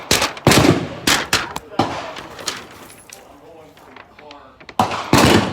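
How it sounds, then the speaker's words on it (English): Gunshots at an outdoor gun range: a string of sharp, loud bangs fired at irregular intervals, some close together in quick pairs, with people talking in between. "So guys, I'm about to shoot it."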